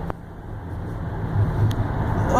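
A turbocharged Chevrolet Impala with a hood scoop pulls away, its engine note rising steadily as it accelerates, heard from a moderate distance amid road noise.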